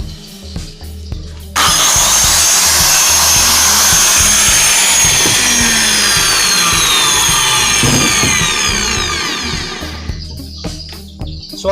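A Maktec MT 583 circular saw starts abruptly and runs loud and close with a steady high whine for about eight seconds. It then spins down and quiets near the end.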